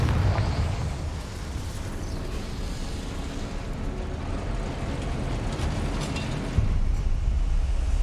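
A Confringo fire spell from Hogwarts Legacy erupts in a loud, sustained explosive roar that rumbles low and heavy throughout, with a sharper blast surging near the end.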